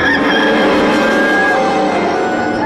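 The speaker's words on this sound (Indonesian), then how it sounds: "Saat itu juga ayam jantan berkokok." A rooster crows, loud and close, a sustained drawn-out call across the whole stretch with no talking.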